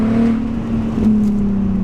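A BMW Z4 drives on a winter road, its steady engine drone and road noise close and continuous throughout, with a slight rise in pitch near the middle.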